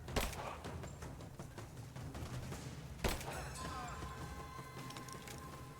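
A grenade detonates in Rise of the Tomb Raider with one sharp, loud burst partway through, set among rapid gunfire-like pops and lingering ringing game effects.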